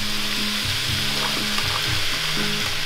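Ground beef and onion sizzle loudly in a pan, a dense steady hiss close up with low, repeated scraping stir strokes underneath and no voices.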